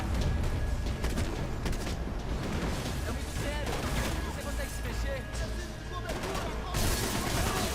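Rapid gunfire from the Max Payne 3 video game, a dense sustained burst of shots with explosive booms, loud and continuous, under excited talk from a player.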